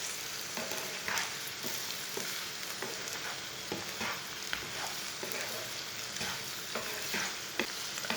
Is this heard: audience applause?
no